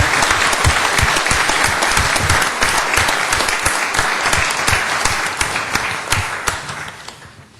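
An audience at a city council meeting in Sioux Falls claps steadily for several seconds, a dense, loud wash of applause that begins to thin and fade toward the end.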